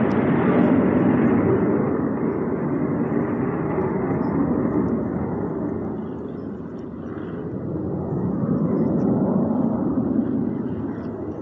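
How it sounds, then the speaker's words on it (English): A low-flying airplane passes overhead, a loud, steady broadband engine roar that dips slightly midway and swells again, filling the whole stretch with no talking. "plane's going over loud."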